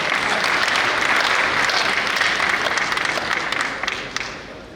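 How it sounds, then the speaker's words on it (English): Sustained audience applause at a symposium and book launch in Ghana, a dense steady wash of many hands clapping that holds for several seconds and then thins out near the end. "Please, a round of applause for you."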